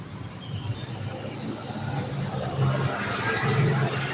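An old truck loaded with people rumbles past at close range, its steady low engine roar and road noise filling the whole stretch, with no talking.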